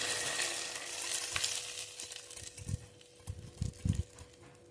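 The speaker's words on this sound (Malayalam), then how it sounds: "ഇനി ഇതിലേക്ക് നമുക്ക് ചെറിയുള്ളിയും വറ്റൽമുളകും വറവിട്ട് ചേർത്ത് കൊടുക്കാം" Shallots and dried red chillies sizzle in hot oil as a tempering for sambar. The soft, close frying hiss gradually fades, and a few low knocks follow near the end.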